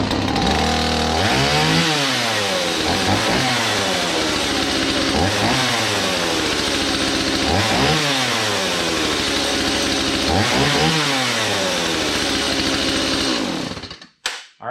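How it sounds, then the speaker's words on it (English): A chainsaw being readied for firewood cutting fires up and runs loudly, rising and falling in repeated revving cycles at close range before cutting off abruptly near the end. "Now let's go try to fire the saw."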